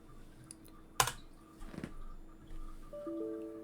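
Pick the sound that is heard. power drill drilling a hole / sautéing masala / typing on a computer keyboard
typing on a computer keyboard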